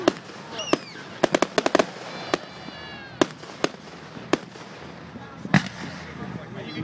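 Fireworks exploding at the Marin County Fair, a series of sharp, loud bangs and crackles spaced irregularly, some close together, with whistling trails and echoes over crowd chatter and people talking nearby.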